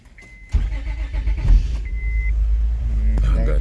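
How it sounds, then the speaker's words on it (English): A 2005 Honda Odyssey starts up: a short chime sounds, then the engine cranks and catches with a sudden low rumble, settling into a steady close idle with a brief beep partway through. "Turn the ignition on."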